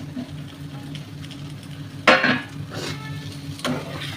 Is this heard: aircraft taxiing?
no